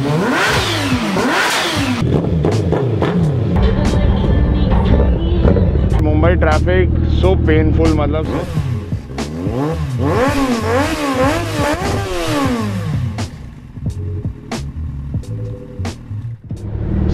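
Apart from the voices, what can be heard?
Honda Gold Wing 1800cc motorcycle engine revving in traffic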